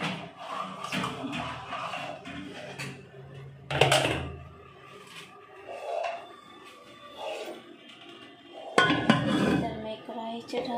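A metal kadhai clanks and rattles on a home kitchen stove while chicken is being cooked, with two louder bursts of clattering between quieter scraping, and a voice talking in the background.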